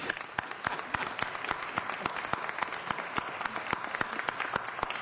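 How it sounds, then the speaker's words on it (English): Audience applause at a city council meeting, a steady wash of clapping hands with sharp individual claps standing out, fairly close and continuous throughout with no talk. "Let's give her another round of applause."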